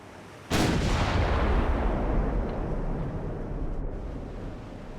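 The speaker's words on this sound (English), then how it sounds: "we're going to be firing HE at everything" Naval guns firing high-explosive Lyddite shells in the warship game Ultimate Admiral Dreadnoughts: one heavy, loud boom breaks sharply out of a steady battle rumble and then rolls away slowly over several seconds.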